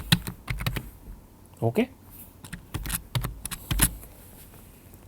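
Keys clicking on a computer keyboard as MATLAB code is typed, a loose run of sharp taps up close, with a man's brief spoken word partway through.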